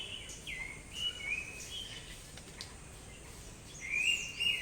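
A bird calls several times at a distance, thin whistled notes repeating at irregular intervals over quiet outdoor ambience.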